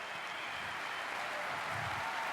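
Snooker crowd applauding a century break at a tournament final, steady sustained clapping throughout, moderately distant and even in level.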